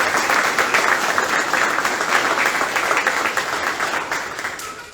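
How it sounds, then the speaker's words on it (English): Audience at a military relief and appointment ceremony gives a sustained round of applause, close and fairly loud many-handed clapping that holds steady for several seconds before gradually tapering off at the end. "Please join me in a round of applause for these fine gentlemen."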